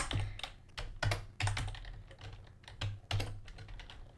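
Quick bursts of typing on a computer keyboard, keys clattering in uneven clusters with short pauses between them, close and clear with no speech.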